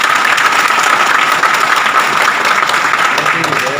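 A crowd at a World Adivasi Day gathering of a stone-carvers' union bursts into loud, sustained applause, dense steady clapping filling the whole stretch without a pause.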